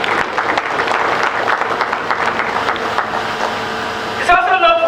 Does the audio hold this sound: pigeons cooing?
no